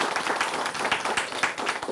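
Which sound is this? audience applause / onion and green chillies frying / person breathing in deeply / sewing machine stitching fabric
audience applause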